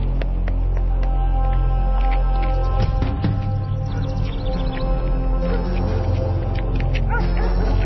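A dog yips and whimpers amid a busy, dense background, with short high calls scattered over a steady loud hum.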